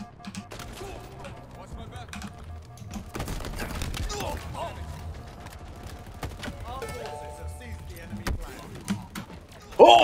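Rapid gunfire bursts from the video game Halo Infinite, sharp cracks and clatter over a continuous game soundscape, with players talking throughout.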